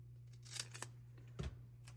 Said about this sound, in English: I'm just going to cut this one with scissors